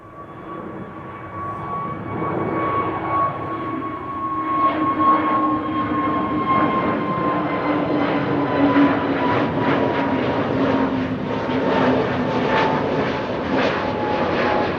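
An EasyJet airliner taking off at Amsterdam Schiphol sends up a building jet roar with a whining engine tone, growing louder and rougher before holding steady, without voices.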